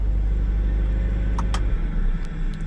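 A 2020 Mercedes-AMG CLA 45 coupe's engine pulls in a steady, loud low rumble from inside the car, with a few faint ticks over the drone.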